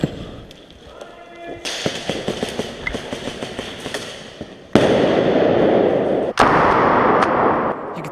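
Airsoft flashbang grenades detonating indoors during a 24-hour milsim game, a crackling rattle building before two very loud, sharp blasts that leave a roaring, hissing wash filling the room, close and overpowering.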